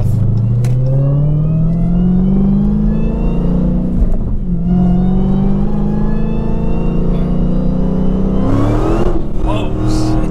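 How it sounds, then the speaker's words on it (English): A 900+ whp Dodge Hellcat does a burnout to clean its tires, its engine roaring loud and continuous with rising revs that dip briefly and then climb again, while voices talk over it. "No, that was just to clean off the tires."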